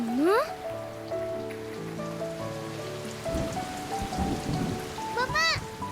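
Steady rain falls in a Hindi TV drama scene, a constant hiss with tonal swoops and music-like notes layered over it, plus a brief vocal sound.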